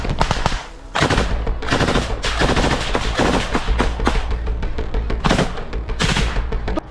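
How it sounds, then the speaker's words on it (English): Intense exchange of gunfire in close combat between Ukrainian and Russian troops, with loud, dense bursts of automatic fire and overlapping shots nearly continuous throughout. "Russian forces noticed their presence, and intense firing immediately began."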